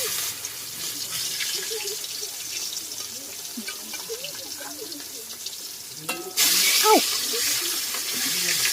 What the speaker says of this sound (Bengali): আর তেল গরম হয়ে গেছে। তো চলো আমি মাছটাকে ছেড়ে দিই।